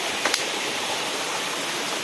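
A waterfall in the forested hills of Uttarakhand gives a steady, dense rush of falling water. It sounds close and stays unbroken throughout, apart from a brief faint tap near the start, with no voices.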